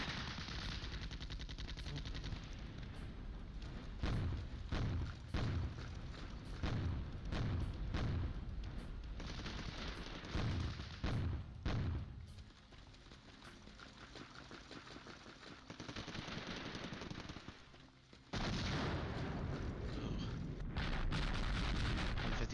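Gunfire and artillery from the Flashpoint Campaigns: Southern Storm war game come as rapid bursts of machine-gun fire and heavy booming blasts. A rumbling battlefield noise runs underneath the whole time, and nobody speaks.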